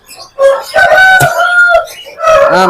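A large, heavy-bodied rooster on a farm crows loudly and close by, a long harmonic call with a short clucking lead-in and a second crow starting at the end.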